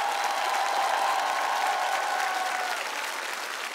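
Steady applause from a television studio audience, dense and continuous, fading slightly toward the end.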